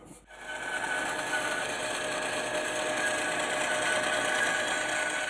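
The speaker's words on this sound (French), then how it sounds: "je vais le découper avec une scie à ruban" A continuous rasping, whirring cut runs steadily after a brief start as a band saw works through plywood.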